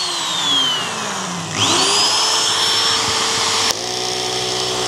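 Air inflator, drill and other appliances all running at once off an EcoFlow River 3 Plus power station: a loud steady motor whine with pitch sweeps as machines start up, plus a sharp click near the end.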